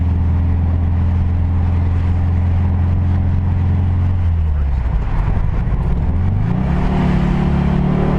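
A loud, deep car engine idles steadily, then its pitch drops and climbs again as the motor revs, a heavy rumbling roar close by.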